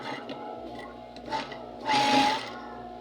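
Sewing machine stitching a scrubs suit, a few short mechanical whirs followed by a longer steady run of stitching, close and moderately loud with no talking.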